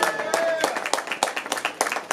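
Audience clapping at a live music meet and greet, a scattered burst of hand claps with some voices mixed in.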